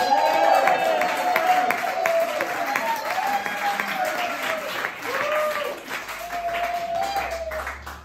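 Comedy-club audience applause for comedian Jake Lambert: a dense, moderately loud wash of clapping from a crowd that swells, then slowly thins, with a voice talking over the clapping throughout.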